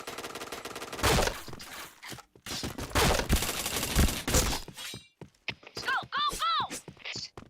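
Rapid bursts of gunfire and shattering impacts from the Point Blank shooting game fill the first five seconds loudly, followed by a pause and then short electronic chirps and effects.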